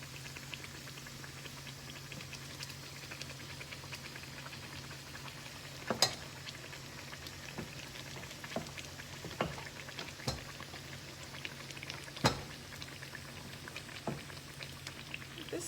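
Guyanese bakes fry in a big, very hot pan, giving a steady, quiet sizzle with occasional sharp pops and crackles scattered throughout.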